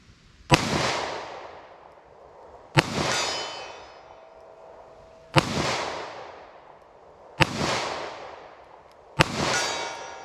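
.38 Special revolver shots ring out at an outdoor range, five loud sharp cracks spaced about two seconds apart, each followed by a ringing echo and metallic clang from a steel target 50 yards away.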